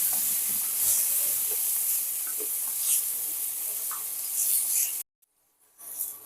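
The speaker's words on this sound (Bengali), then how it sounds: "এখানে সামান্য একটু লবণ আর অল্প একটু হলুদ এবারে এগুলোকে ভালো করে ভেজে নেব" Potato pieces seasoned with salt and turmeric fry in oil, giving a continuous close hissing sizzle with faint stirring scrapes for about five seconds before a sudden cut to near silence and a brief return of sizzle.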